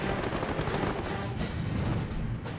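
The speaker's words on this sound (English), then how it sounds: "the staccato burst of machine guns and cannon" WWII fighter machine guns and cannon hammer away in a dense, continuous staccato barrage during an aerial dogfight, loud and close with heavy rumbling booms underneath.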